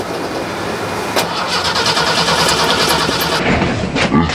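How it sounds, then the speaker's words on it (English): An old car that is out of gas cranks without catching, its engine noise grinding on steadily at close range, with a brief sharper burst midway and no voices. "I'll start my vehicle, and then we'll get it going"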